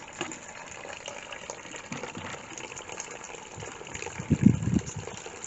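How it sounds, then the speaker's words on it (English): Water gushes and splashes steadily from a hose, a continuous close rushing noise that swells slightly louder toward the end. "I've just turned the water on."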